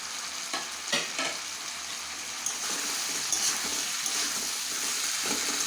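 Taro pieces stir and fry in a cooked spice mixture, giving a steady sizzle with scraping stirs and occasional clatter from the utensil, close and continuous with no talking.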